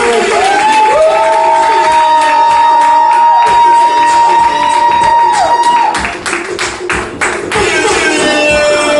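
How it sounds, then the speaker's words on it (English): Crowd clapping and cheering at a community event, loud whoops and shouts over steady applause, with a few sharp claps as it fades. "Clap up for Taisha one good time."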